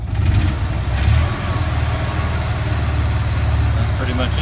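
A car engine, given one pump of the throttle and cranked, settles into a loud, steady, close idle with a low rumbling drone that barely varies.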